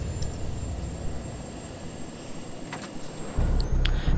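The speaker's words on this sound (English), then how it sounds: "This one might be one with one of the heavy cargo planes" A heavy cargo plane flying in the Just Cause 2 video game, a continuous low droning engine rumble that swells louder near the end, with faint high whines above it and no voices.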